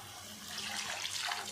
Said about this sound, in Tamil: அதுக்கப்புறமா கொஞ்சமாக தண்ணி சேர்த்துக்கலாம்.